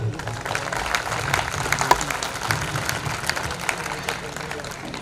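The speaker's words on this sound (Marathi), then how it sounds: "म्हणून आपण सर्वजण मिळून त्यांच्यासाठी टाळ्या वाजवूया" Wedding guests clap for the newly married couple, a scattered, moderately loud round of applause mixed with crowd murmur and a voice talking over it.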